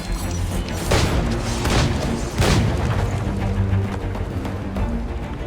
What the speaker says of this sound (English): You do have a max of 4 shots before reloading,